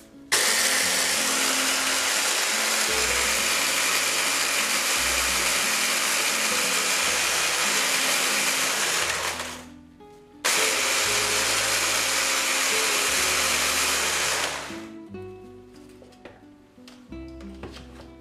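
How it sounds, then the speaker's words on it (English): Electric blender whirring loudly as it breaks digestive biscuits into crumbs for a lemon cheesecake, a steady high-pitched motor roar in two long bursts with a short stop between, then winding down to clattering bits. "Put them into the blender and just blend them up."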